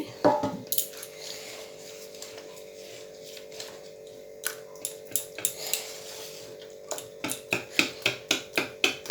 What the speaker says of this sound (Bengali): ফেটিয়ে নেব ভালো করে